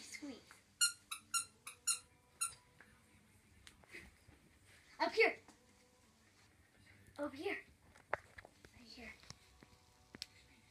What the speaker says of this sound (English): And her monkey squeaks.